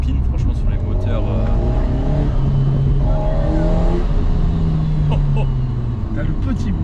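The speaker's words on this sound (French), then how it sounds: "Le bruit, il est magnifique." An Alpine A110 GT engine drones loudly and steadily, with rising and falling engine notes, while people talk over it in French.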